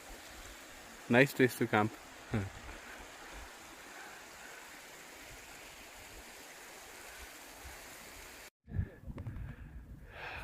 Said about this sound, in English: Look at the beauty of this place. Flowing water.